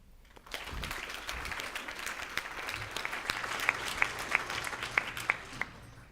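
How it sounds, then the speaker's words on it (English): Students at an awards night give their parents and teachers a round of applause: a roomful of steady clapping that builds after a quiet start, with a few sharp, distinct claps standing out near the end. "I want the students to give a round of applause for their parents and teachers"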